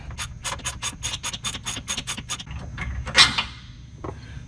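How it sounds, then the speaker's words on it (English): A ratchet on an 18mm socket clicks in a quick, even series of strokes, loosening a Jeep control arm bolt, then a brief metallic clunk and scrape follow, close and clear without talk. "using an 18mm socket, we're going to remove this bolt"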